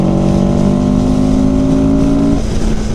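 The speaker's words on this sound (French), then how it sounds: "Ah, le moteur, il est vivant." A CFMOTO motorcycle engine drones steadily at speed on the highway, a loud sustained hum with tonal harmonics that shifts pitch slightly near the end, wind rush underneath.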